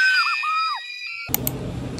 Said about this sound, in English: Final scream.